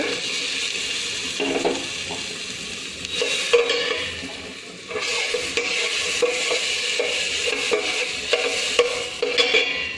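Butter melts in a cooking pot for chicken stew with a steady, close sizzle and bubbling, broken by a few soft scrapes and knocks of stirring.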